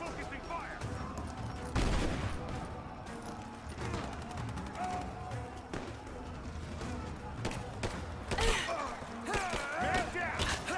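Gunfire in the video game Rise of the Tomb Raider, with shots and bursts scattered through the scene amid battle noise and shouted voices.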